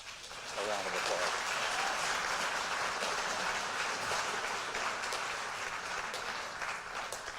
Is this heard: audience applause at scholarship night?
yes